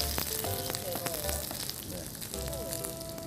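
Diced paprika frying in a pan, a soft continuous sizzle with light crackle under a quiet background, with faint tonal kitchen sounds.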